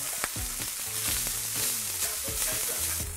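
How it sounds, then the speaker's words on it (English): Egg mixture with crispy bits frying in a pan gives off a loud, continuous close sizzle, with a faint scrape of constant stirring beneath it. "I'm constantly stirring this and trying to get all the crispy bits back into the mixture."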